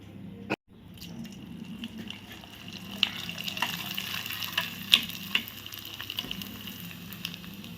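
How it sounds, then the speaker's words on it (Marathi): A fasting snack fries in hot oil with a steady, quiet sizzle, sprinkled with sharper pops and drips that grow slightly livelier over time. "हे बघा असा मस्त तळला जातो"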